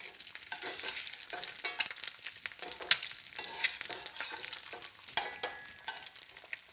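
Eggs fry in a pan with a steady crackling sizzle, punctuated by sharper pops and spatters, fairly quiet and close with no talking.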